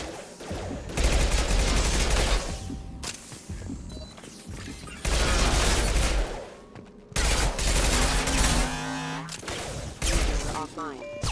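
Rapid SMG bursts in Mass Effect 2, sustained rattling fire coming in several long loud volleys mixed with mechanical clanks and impacts, with voices speaking between bursts.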